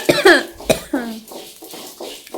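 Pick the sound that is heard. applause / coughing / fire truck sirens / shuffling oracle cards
coughing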